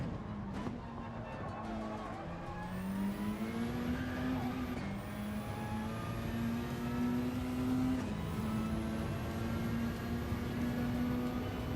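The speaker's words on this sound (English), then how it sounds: "This car has a pretty nice squeaky sound to it when switching gears." Race car engine in Gran Turismo 7 drones steadily, its pitch stepping down at each gear change, with a thin, high squeaky whine like a blow-off valve riding above the engine throughout.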